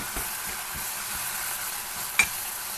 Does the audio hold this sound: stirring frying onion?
yes